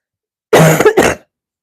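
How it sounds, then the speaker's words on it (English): A single throat-clearing cough up close, one harsh burst followed by a shorter second rasp, with no talking. "I have to cough, I'm so sorry."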